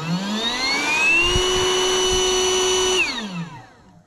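A battery-powered blower inflates an air bed, whining up to a loud, steady near drone that holds for a couple of seconds and then winds down and fades, with no talking.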